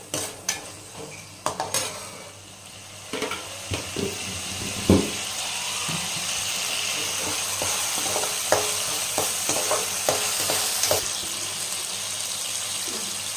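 Tomatoes and chili powder fry in a pan for tomato rice, a steady sizzle under repeated scraping and clinking of a spoon stirring, louder at first and then settling into continuous frying.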